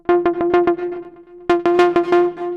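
A Jupiter synth techno preset with its filter at a minus 12 dB slope, playing a quick rhythmic sequence of bright, buzzy repeated notes on one pitch, loud and alone, with a brief pause midway.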